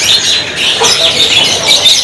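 Canaries of F3 stock singing in cages at a bird kiosk, bright overlapping chirps and trills, loud and close, continuous throughout the short moment.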